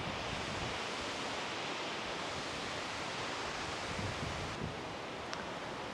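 A river at Rivière-du-Loup rushes steadily beside a golf course, a continuous broadband wash of flowing water with no talk and a faint brief click near the end.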